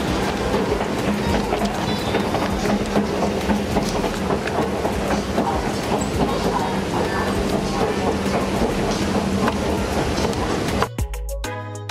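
A train ride between airport terminals toward the gate, with steady rumbling wheels and clickety-clack rolling for about eleven seconds, loud and continuous, before stopping abruptly near the end.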